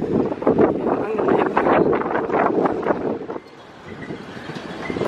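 Wind rushes loudly across the microphone outdoors in Mallorca, a broad gusty roar under a person speaking, then easing to a quieter breeze near the end.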